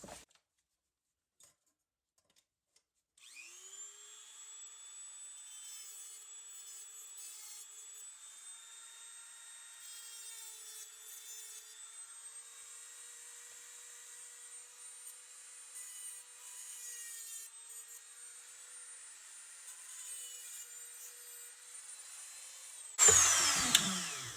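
A small rotary tool trims the ends of the pin tubes on an RC chassis with a thin, steady high-pitched whine, ending in a louder burst of grinding contact.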